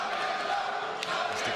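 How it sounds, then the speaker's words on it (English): Wrestling arena crowd at a Ring of Honor Supercard of Honor title match, a broad sustained roar of cheering fans heard steadily at moderate distance. "And this crowd, though, rallying behind the business at hand."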